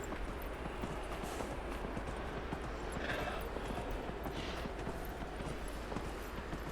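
Continuous quick hoofbeats of a horse trotting along in Dragon Age: Inquisition, a soft even clip-clop rhythm heard fairly faint.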